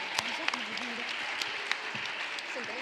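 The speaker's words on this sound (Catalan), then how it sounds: "Un fort aplaudiment." Applause from a school group taking part in a game show, as a steady wash of clapping with a few sharp individual claps and voices mixed in.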